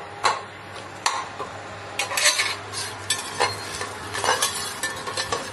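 Marinated mutton with whole peppercorns, bay leaves and garam masala cooks without oil in a pot as a spoon stirs it, with scattered scrapes and metallic clinks over a soft sizzle and low hum.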